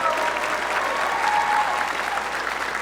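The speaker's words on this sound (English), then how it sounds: "Big round of applause for them" A crowd of attendees at a FIRST Robotics Competition regional event applauds the volunteers with steady, sustained clapping that fills the hall at an even loudness.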